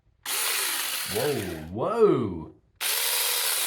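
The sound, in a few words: mini electric chainsaw running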